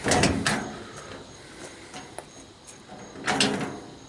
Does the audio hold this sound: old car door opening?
yes